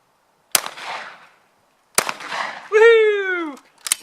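Two sharp shotgun blasts at clay targets ring out outdoors, about a second and a half apart, each trailing off with a short echo. A person then gives a loud, drawn-out cheer.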